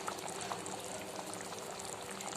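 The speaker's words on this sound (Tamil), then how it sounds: "இதே மாதிரி முட்டையை ஒரு சின்ன கிண்ணத்தில் உடச்சி ஊற்றி குழம்புல மெதுவாக சேர்த்துக்கலாம்" A broken egg slides from a small bowl into simmering egg curry, heard as a soft, continuous bubbling and liquid pour close by, moderately quiet, with no voices.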